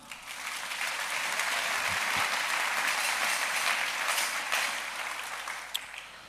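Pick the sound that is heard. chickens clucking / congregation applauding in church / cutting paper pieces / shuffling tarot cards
congregation applauding in church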